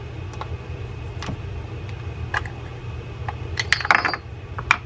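A fishing reel's case being pried off: scattered small plastic and metal clicks and taps, irregular and close, bunching into a quick cluster near the end over a low background hum.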